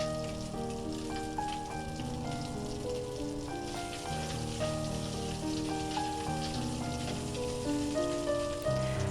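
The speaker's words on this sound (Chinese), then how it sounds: "油热以后煎一下排骨，不用经常翻动，这样容易上色" Pork ribs pan-fry in coconut oil with a dense, even crackling sizzle like rain on a surface. It runs loud and close for the whole stretch, and no one speaks.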